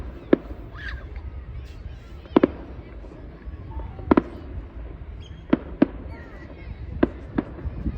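Fireworks bursting outdoors: about eight sharp, loud bangs at irregular intervals, some in quick pairs, over steady low background rumble and noise.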